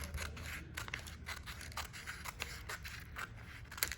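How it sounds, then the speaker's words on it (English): Scissors cut paper along a straight line, making a steady run of quick, crisp snips and rustles. The sound is close and fairly quiet, with no talking over it. "You cut a straight line across."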